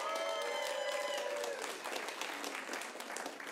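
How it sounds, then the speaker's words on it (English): Steady applause from a comedy club audience at a New Year's Eve show, a dense wash of many hands clapping at moderate distance with murmured crowd noise beneath, fading slightly after the first second. "Let's give him a round of applause."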